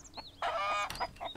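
Two chickens in the survival game Mist Survival clucking close by in short bursts, with one louder, longer squawking cluck in the middle and no talk.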